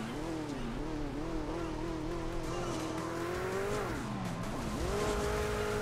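Car engine in Hill Climb Racing 2, a droning motor whose pitch wobbles up and down with throttle, dipping and rising again on hills, steady and continuous with tire noise underneath and a voice talking.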